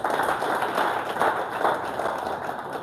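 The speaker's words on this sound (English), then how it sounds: "Let's clap for Ntale better than that." An audience claps together in a dense, steady burst of applause at a live business event, fairly loud and continuous throughout with no talk over it.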